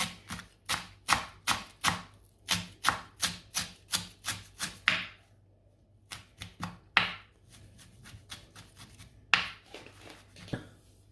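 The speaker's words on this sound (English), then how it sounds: "Don't forget the parsley, guys. Chop it very small." A knife chops parsley very finely on a board in quick, even bursts of crisp taps, pausing briefly partway through before resuming more unevenly, close and clear with no talking.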